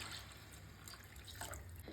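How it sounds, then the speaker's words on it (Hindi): Water poured into a pan of chana dal curry masala makes a soft, continuous splashing trickle, quiet and close, with no talk. "तो अब हम डालेंगे इनमें पानी।"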